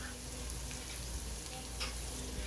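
Lapu-lapu fish frying in hot oil for sweet and sour, a soft continuous sizzle at moderate distance with faint crackles and no voices.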